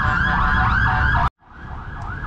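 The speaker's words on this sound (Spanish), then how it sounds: "Está muy difícil que pase esa ambulancia" An ambulance siren wailing loudly in traffic, a steady rising-and-falling tone that cuts out abruptly, then resumes a little softer and farther away.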